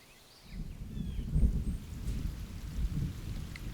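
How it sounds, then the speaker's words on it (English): Low rumbling thunder rolls under a steady patter of rain, swelling after a quiet start and staying heavy throughout. "it keeps raining on and off all day"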